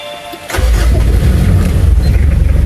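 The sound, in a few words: Mitsubishi Pajero engine starting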